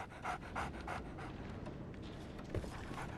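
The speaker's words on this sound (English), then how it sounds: "So, Barnes has a dog now." A dog pants in the Sherlock Holmes: The Awakened video game, quick rhythmic breaths close up, with no other sounds over them.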